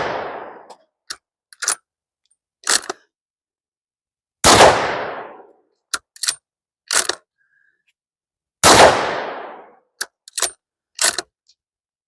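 Three loud, sharp rifle shots from a 300 Blackout firing Norma 147 grain supersonic ammunition, evenly spaced about four seconds apart, each with a long decaying echo, separated by quieter clicks and handling noises.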